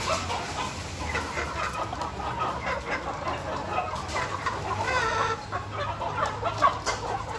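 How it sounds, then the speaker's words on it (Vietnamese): A flock of free-range chickens on a farm clucks continuously close by, with a dense overlapping chatter of many hens and no speech over it. "Con gà nhìn chất lượng quá mọi người ạ."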